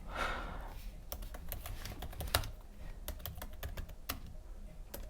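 Fingers tap a computer keyboard in quick, uneven bursts of crisp clicks, close and clear over a low background hum, with a pause between flurries and no speech.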